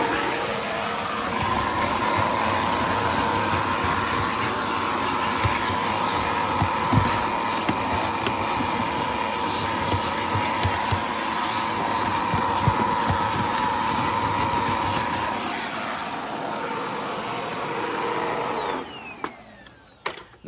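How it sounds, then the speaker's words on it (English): Vacuum cleaner running steadily and loudly up close while cleaning seat covers inside a Ford Mustang, a continuous whining drone that holds for nearly twenty seconds before switching off at the end. "so got the vacuum here."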